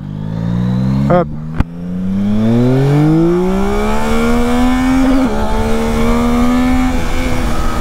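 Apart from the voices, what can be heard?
Yamaha Tracer 9 GT+ motorcycle accelerating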